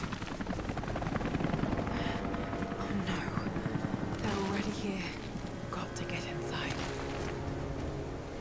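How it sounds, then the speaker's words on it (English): An attack helicopter in the video game Rise of the Tomb Raider drones steadily throughout, a dense rotor and engine roar with faint voices and mechanical clicks mixed in. "We at least got to get away from the attack helicopter."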